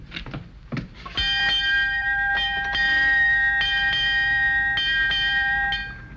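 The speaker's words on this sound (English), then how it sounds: "Eight bells, time for the northbound stage." A ship's bell or clock bell strikes eight bells at an Old West stagecoach stop, sounding clear repeated metallic strokes in pairs with long ringing overtones, near and loud, after a few knocks.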